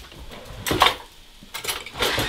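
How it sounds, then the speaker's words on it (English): A sauce of soy sauce and cornstarch being stirred in a bowl for chow mein, with two short bursts of clinking and scraping from a utensil against the dish, close and fairly loud. "Mix it all up."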